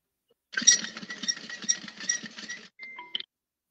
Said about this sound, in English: Yeah, sewing machine.